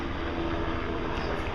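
Helicopter flying overhead, a steady loud engine and rotor roar filling the short stretch, with no talk.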